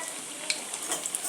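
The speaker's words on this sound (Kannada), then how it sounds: "ಈ ಥರ ಫ್ರೈ ಮಾಡಿ," Crispy potato snacks fry quietly in hot oil, a soft steady sizzle with a few faint crackles and pops near the pan.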